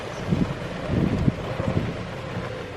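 Steady cold wind buffeting the microphone on a golf course, a low rumbling roar with gusts that swell and ease, with no voices.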